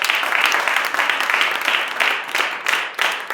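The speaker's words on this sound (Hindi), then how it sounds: "क्या आप ताली बजा सकते हैं?" A church congregation claps steadily together, a dense, fairly loud wash of hand claps with a few rhythmic swells, and little talk over it.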